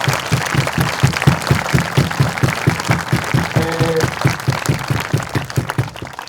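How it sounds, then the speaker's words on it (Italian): Sustained applause for the San Giovanni Battista folk choir of Pula at a Sant'Efisio martyrdom event, dense steady clapping from a crowd filling the whole stretch, with faint voices briefly surfacing in the middle. "un applauso."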